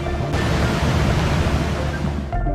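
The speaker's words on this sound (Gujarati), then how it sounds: "સુણસરનો ધોધ ચોમાસાના આગમન સાથે જ ખડખડ વહેતો થઈ જાય છે" The Sunsar waterfall in the Aravalli hills, running full in the monsoon, gives a dense, steady, close roar of falling water that stays loud and unbroken throughout.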